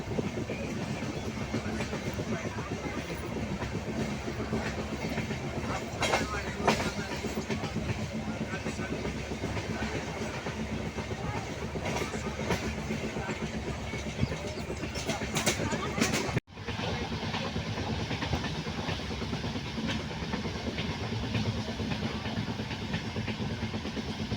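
Steady rumble and rattle of a moving, crowded passenger train carriage in South India, continuous and fairly loud, with faint voices mixed in and a brief break partway.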